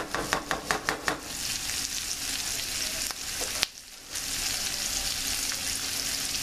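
Cabbage sizzles in a butter and olive oil mixture in a pan, a loud, continuous frying hiss with rhythmic stirring scrapes at first and a brief pause midway.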